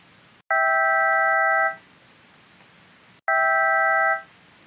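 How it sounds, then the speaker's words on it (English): Two identical bell-type additive waveform notes from the Bazille synthesizer ring out, each a bright, steady multi-partial tone about a second long that fades, separated by a short pause. "We get a new bell type waveform."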